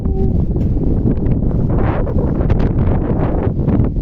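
Steady wind blowing across open rice fields in the countryside, a continuous loud rushing buffet against the microphone with no break, no voices over it.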